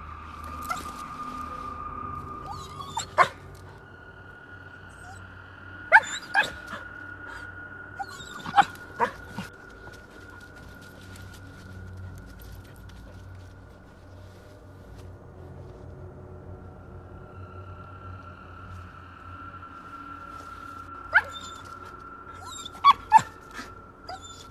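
A dog near a car gives a few sharp barks and yelps in scattered bursts, separated by long quiet gaps over a faint steady hum, ending with a quick cluster of yips.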